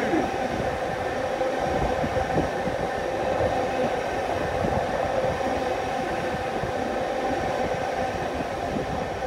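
A test train rumbles steadily past a station platform at close range, with continuous wheel and track noise and a low mechanical drone throughout.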